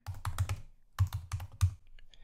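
Computer keyboard typing a git clone command: two quick bursts of crisp key clicks separated by a short pause, close and clear with no voices.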